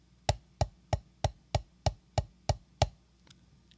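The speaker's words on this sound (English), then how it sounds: "Next, we're going to do singles followed by triples." Single drum strokes hit at a steady pace, about nine sharp, close taps evenly spaced, each with a quick decay, followed by a faint softer tap near the end.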